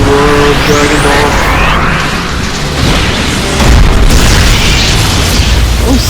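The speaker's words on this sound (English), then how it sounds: "Now, the Spirit Bomb." Spirit Bomb attack exploding in the Roblox game Sailor Piece, a loud booming blast with crackling bursts and rumbling impacts that surge again toward the end, heard alone.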